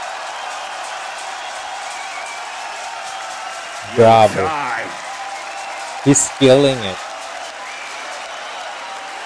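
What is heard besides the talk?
crowd applauding beatbox performance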